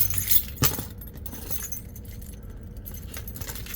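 Car keys jangle in a brief metallic rattle near the start, followed by quieter clinks over low background noise.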